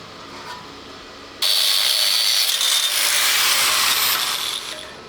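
A power tool bites into a metal plate during a Panzer I Ausf. B restoration, bursting in abruptly after quiet shop ambience and holding a loud, continuous harsh hissing whine until it eases off at the end.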